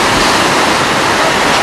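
Ocean surf rolling onto the beach at Tulum, Mexico, a loud, steady broadband wash of breaking waves with no pauses, filling the whole moment without any voices.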